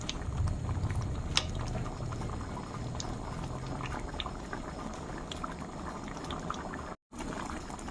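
Khichuri of rice and lentils bubbling steadily in a pot on the stove, a dense continuous simmer with scattered pops, close and moderately loud, with a momentary dropout near the end.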